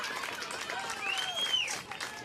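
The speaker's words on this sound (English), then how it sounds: "Nice hand from the Ursuline crowd as Caitlin Labandour back into the soccer match" Crowd at an Ursuline high school soccer match applauding a player coming back into the game, a brief spatter of distant clapping and cheering under a commentator's talk.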